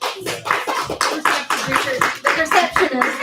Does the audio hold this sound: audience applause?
yes